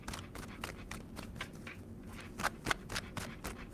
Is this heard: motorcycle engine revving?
no